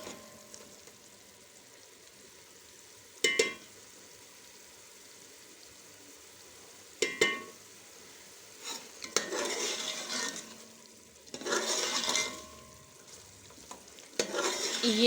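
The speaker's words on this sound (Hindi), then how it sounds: "अब हम इसकी 2 से 3 मिनट के लिए इसकी भुनाई करेंगे" Achar gosht masala with turmeric frying in a pot, a quiet sizzle broken by a few sharp metal clanks and bursts of stirring and scraping, close and intermittent.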